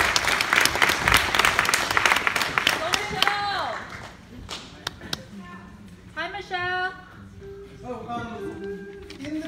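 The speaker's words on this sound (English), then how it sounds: "So can we have a big round of applause for guitar students?" Audience applause for guitar students at a December concert, a dense burst of clapping that fades after a few seconds, followed by a voice speaking.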